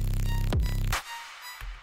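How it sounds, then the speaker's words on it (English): Serum synth patch with a reverb filter opening and shutting and resonance turned all the way down: a buzzy tone sweeps sharply downward, cuts off with a noisy whoosh, then a brief low thump follows, close and alone. "And the basis of this sound is the reverb filter kind of opening and shutting, which is kind of creating that like kind of sword sound."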